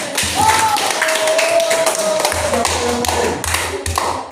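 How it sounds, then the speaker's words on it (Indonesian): A class of students claps in unison for a classmate, giving a series of rhythmic, close taps under a sustained tone and some talk. "itu tepuk tangan untuk Kisah"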